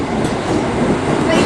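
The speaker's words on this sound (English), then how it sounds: "317512 en route to Hertford East." Class 317 electric train, unit 317512 in X1 railway livery with raised pantograph, passing through Ware on its way to Hertford East; a close, loud, steady rolling rumble of wheels and carriages fills the whole stretch.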